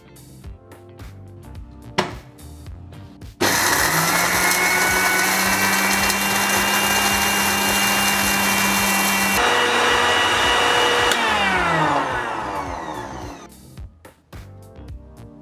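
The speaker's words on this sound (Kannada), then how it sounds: "ಈಗ ಖಾರದ ಪುಡಿ ಮಾಡೋದಕ್ಕೋಸ್ಕರ ನಾವು ಹುರಿದಿಟ್ಟಂತಹ ಮೆಣಸಿನ್ಕಾಯಿನ ಮಿಕ್ಸಿ ಜಾರ್ಗೆ ಸೇರಿಸ್ಕೊಳ್ತಾ ಇದ್ದೀವಿ." An electric mixie grinder whirs loudly as it pulverises roasted red chillies into chilli powder, a steady motor roar running for about eight seconds and dropping in pitch as it winds down, with quieter handling sounds before and after.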